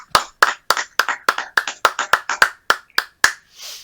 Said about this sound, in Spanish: Se nos han pasado los aplausos.